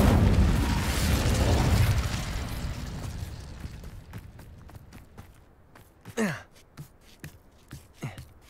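An Incendio fire spell cast in the Hogwarts Legacy video game erupts in a loud, roaring whoosh that fades over about four seconds, then a few sharp swishing bursts follow; no talking.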